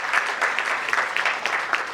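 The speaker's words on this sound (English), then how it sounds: "So I once again request everyone to please give Hitesh ji a big round of applause." An audience at a professional seminar for chartered accountants gives a round of applause to a speaker, a steady burst of many hands clapping throughout the short stretch.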